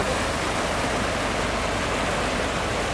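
Fast-flowing mountain stream water near Sahastradhara and Maldevta outside Dehradun, a dense, steady rushing roar that fills the whole stretch without pause or voices.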